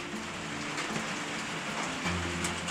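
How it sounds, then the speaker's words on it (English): Rain falling on a metal roof, a steady dense patter drumming continuously and evenly throughout, fairly loud with no voices. "it started raining on me here, so I hope you can hear me above the rain"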